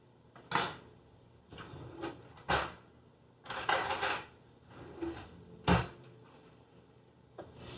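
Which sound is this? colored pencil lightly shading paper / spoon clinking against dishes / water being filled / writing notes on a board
spoon clinking against dishes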